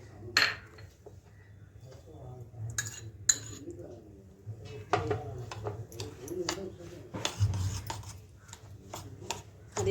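A spoon scrapes and rubs around a bowl, mixing semolina (rava) with curd for rava dosa batter, with soft irregular scraping strokes and occasional clinks at close range, fairly quiet under a woman's intermittent speech.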